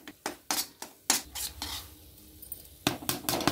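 A spoon stirs melting khoya and sugar in a pan for almond-cashew barfi, with sharp scraping clinks at a fairly steady rhythm, a soft sizzle underneath and a brief quiet stretch before the stirring resumes.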